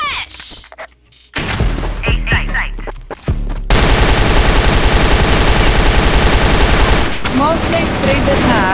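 Weapon fire in a ranked video game match: scattered shots and effects at first, then a loud, rapid, sustained burst of automatic gunfire that dominates the rest of the moment.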